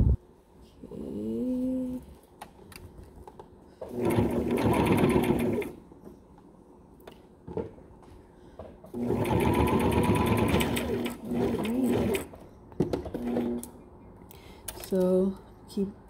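A sewing machine stitching a fabric anti-fog mask for glasses runs in two loud, close bursts of a few seconds each, separated by quieter pauses with short clicks and brief motor whirs, while a person talks.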